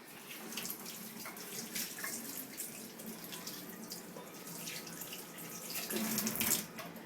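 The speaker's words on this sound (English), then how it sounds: "So let's wash our hands to start off with." Tap water runs steadily into a sink while hands are washed beneath it, a soft continuous splashing with small rubbing and dripping changes, heard close and fairly quiet with no talking.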